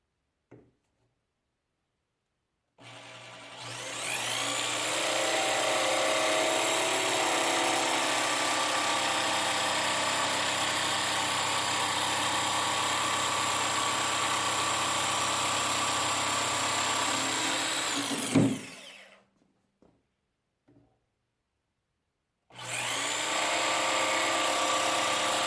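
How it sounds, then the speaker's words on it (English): A jigsaw cuts a one-inch slot in plywood with a loud, steady motor whine that runs unbroken for about fifteen seconds. It stops abruptly, falls silent, then starts up again near the end. "I used my jigsaw to finish cutting a 1-inch slot."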